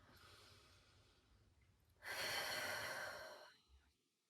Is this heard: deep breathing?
yes